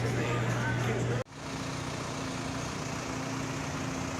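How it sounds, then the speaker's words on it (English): A utility company's EPM truck idles at the roadside with a steady low engine drone. A louder burst of noise cuts off abruptly after about a second, then the idle hum runs on evenly without pause. "So here's the EPM truck, and he sits out here. He's idling for like an hour."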